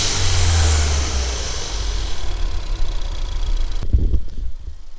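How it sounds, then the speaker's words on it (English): A Ford Fiesta ST fitted with a Turbosmart blow-off valve revs loudly and close by under the hood, with a steady engine roar that cuts off sharply near the end. "I'm going to start her up, give her a couple revs for you guys"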